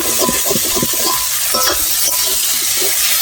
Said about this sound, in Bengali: আর একটু নেড়ে চেড়ে ভাজবো